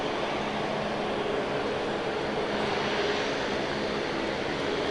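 An Airbus A350 airliner taxis around the airfield, producing a steady broadband engine roar with a faint whine, distant and unchanging throughout, with no voices.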